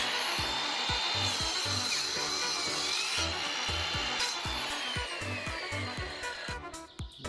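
A Ryobi EMS190DCL mitre saw cuts a wooden board, its motor whining steadily under a rhythmic series of low thumping pulses from the blade biting the wood, close and loud before easing off at the end.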